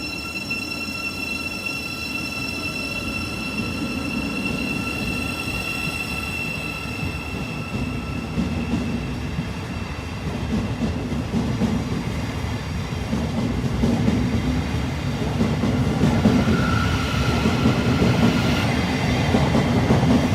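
A Thameslink train runs through a station, giving a steady rumbling rail noise with sustained high metallic whines and squealing tones, the wheel clatter growing gradually louder toward the end.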